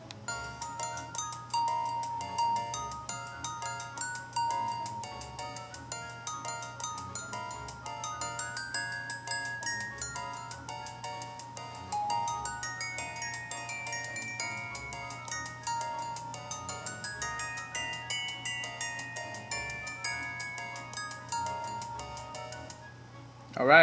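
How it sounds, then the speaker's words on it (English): A phone ringtone plays a gentle, tinkling melodic tune that loops steadily for over twenty seconds at moderate volume. "So I'm actually borrowing a phone from a family member, and this is the ringtone."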